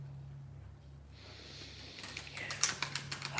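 Quiet rustle, then a quick run of soft, crisp card flicks as a tarot deck is shuffled close by.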